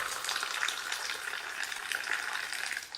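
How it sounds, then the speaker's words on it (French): Moroccan mint tea poured in one stream into glasses makes a soft, continuous splashing trickle, faint and close, with a light fizzing texture and no talk. "on va les servir dans les verres d'un seul coup, en fait, d'un seul filet"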